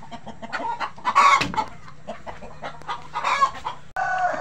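Rhode Island Red chickens in their coop give bursts of clucking and squawking calls close by, several birds overlapping in short uneven outbursts with quieter gaps between.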